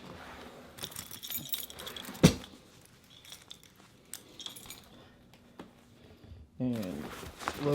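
Keys jangle in bursts, clinking and rattling close by, with sharp metallic knocks and a louder shake near the end, while someone talks.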